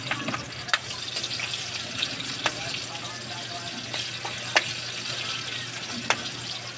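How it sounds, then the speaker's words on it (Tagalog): Garlic and onion sauté in a pan with a steady soft sizzle and occasional sharp utensil taps, while faint speech sits in the background. "gisa muna tayo lang o bawang sibuyas"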